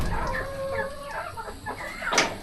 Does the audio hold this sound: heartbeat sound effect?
no